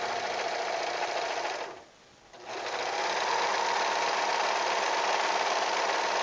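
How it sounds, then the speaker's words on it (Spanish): Overlock serger stitching both sides of a blouse, a fast, steady mechanical whir close up that briefly stops around two seconds, then runs on evenly to the end. "Vamos a pasar aquí overlock a los dos lados."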